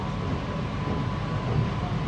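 An AC EMU local train on the Sealdah–Ranaghat line rolls into Barrackpore station, heard from inside as a steady, even rumble of wheels and carriage noise without pauses.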